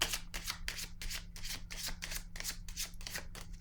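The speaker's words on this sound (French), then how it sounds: "Je vais déposer une carte ici" Tarot cards being handled and shuffled during a reading, a quick, regular run of crisp papery flicks repeating about three times a second, close and fairly quiet.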